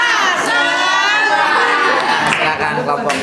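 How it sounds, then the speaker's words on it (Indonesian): Students at a group teaching-performance assessment make loud, lively crowd noise during a spirit clap, with children's shouts and cheering voices blended over continuous clapping. "Sebelumnya kita tepuk semangat dulu."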